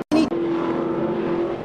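NASCAR Nationwide stock cars race on a wet road course in Montreal, a brief sharp burst giving way to a sustained, loud engine drone as a car holds a steady high note while passing close by.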